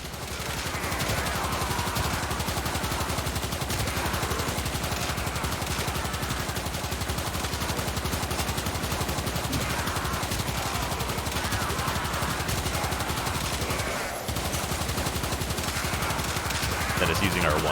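Knell Prime sniper rifle in Warframe firing in a steady, dense barrage of gunshots that stays loud and unbroken throughout, with a brief dip near the end.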